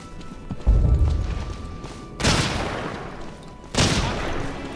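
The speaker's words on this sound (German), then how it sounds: "Ja, dann knallen wir ab." Gunfire in the World War II shooter game Hidden and Dangerous 2 during enemy contact in corridors: three sharp shots spaced over a few seconds, each with a decaying echo, with no talk.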